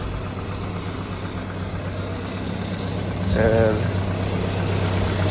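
A 2.5 Iron Duke truck engine idles steadily with a low, even hum, a brief louder burst near the end, and a short word spoken over it.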